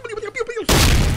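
A grenade blast goes off suddenly after a stretch of talking, a loud booming burst that fills the rest of the moment with sustained roaring noise.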